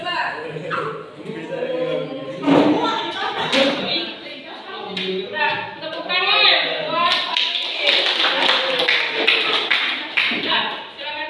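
Children applauding in a classroom, a burst of clapping from many small hands mixed with a teacher's voice and kids' chatter throughout.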